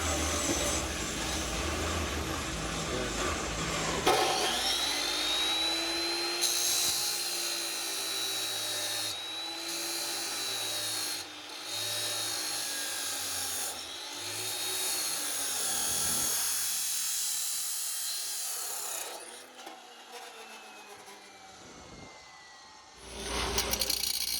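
Power tool cutting metal on a boat trailer frame being converted to a flatbed, a loud sustained high whine running steadily for most of the stretch, dipping briefly near the end.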